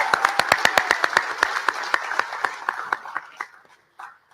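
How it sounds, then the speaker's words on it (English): Graduation ceremony audience giving award winners a round of applause, with crisp distinct claps at a quick steady rhythm, close and moderately loud, thinning into a few last claps. "Let's give them another round of applause."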